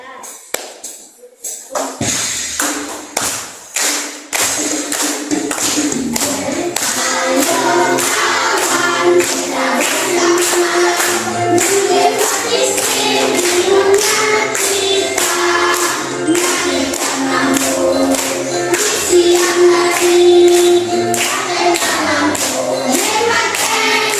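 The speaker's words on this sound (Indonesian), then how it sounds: "Nanti boleh sambil tepuk tangan." Schoolchildren standing in a classroom clap their hands in steady rhythm while singing together, after a few scattered opening claps; the claps stay sharp and regular beneath the loud group singing.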